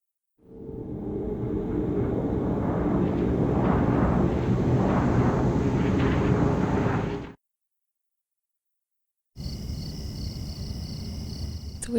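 A weird filter sound effect in the video game Silent Hill 4: a loud, dense rumbling wash that swells in and holds for several seconds, cuts to silence, then returns as a noisy drone with high ringing tones.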